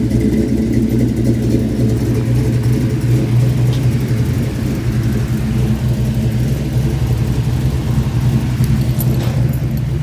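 In the pits at Club Loose drift day at Englishtown, a boxy sedan drift car's engine rumbles loud and close, holding a steady, throaty drone for the whole stretch.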